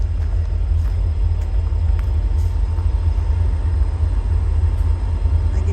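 A deep, steady rumble of a stationary train idling at an industrial site, constant and close, with a faint hum and occasional light clicks above it.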